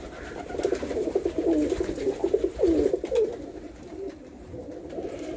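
Pigeons coo inside a loft in soft, rolling, repeated calls, close and moderately loud, overlapping at first and then tapering to quieter murmurs.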